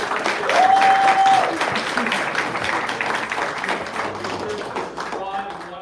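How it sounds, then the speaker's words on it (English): An audience at a live toy convention event bursts into applause, loudest at the start and then tapering slowly while a voice talks briefly over the clapping. "Alright, so, big round of"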